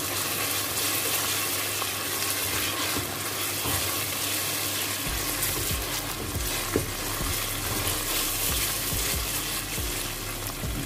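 Steady loud sizzling of chana dal roasting in a hot pan, a dense continuous hiss with occasional stirring scrapes, close up and without talk.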